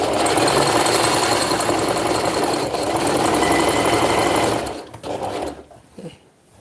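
Loud, close sewing machine hammering out a rapid, steady zigzag stitch for several seconds, then slowing and stopping in a few short bursts.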